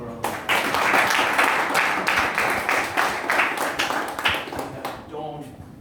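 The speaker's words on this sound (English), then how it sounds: "Let's give them a round of applause." Audience applause for outgoing executive committee members, fairly loud and sustained, with a voice speaking over the clapping as it fades near the end.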